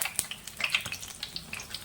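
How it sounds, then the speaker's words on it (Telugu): Urad dal vadas made with green chillies, curry leaves and ginger sizzle in hot frying oil, giving a steady close crackle with small pops and spits throughout, no voices. "చూడండి ఎలా కాలుతున్నాయి."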